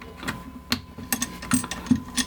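Small screws being tightened on a camera L-bracket for a Nikon Z6/Z7 Mark II, giving a series of short close clicks and ratcheting ticks spread unevenly across the moment, with no talking.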